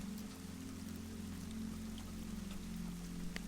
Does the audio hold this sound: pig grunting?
no